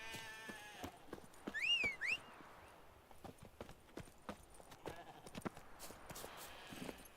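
Horse hooves clip-clop at a trot in The Witcher video game, a faint rhythmic series of sharp hoofbeats alongside a brief whinny-like tonal call and a short shout from a rider.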